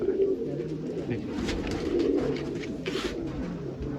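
Rajasthani bajra pigeons coo continuously at close range, a soft, throaty murmur of overlapping calls with little else around.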